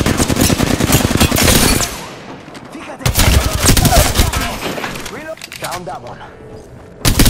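Bursts of automatic gunfire and shots in the battle royale shooter Apex Legends, loud and dense for the first two seconds, then renewed volleys with scattered cracks, mixed with game effects and a brief spoken line.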